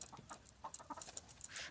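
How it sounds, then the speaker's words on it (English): A rooster in a backyard chicken coop cackles softly, a run of short clucking notes repeating quickly, quiet and fairly close with light background noise. "That was him cackling a little bit."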